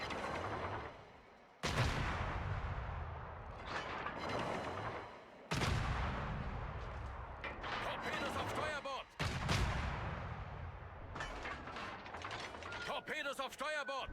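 Naval guns fire in a warship battle game, with three heavy booming salvos spaced several seconds apart, each trailing into mechanical clanks and whirring, while a voice talks at moments.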